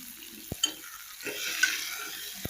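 Tomatoes cook in a pan and a spoon stirs them through a soft background sizzle, with two sharp taps of the utensil against the pan and no talking.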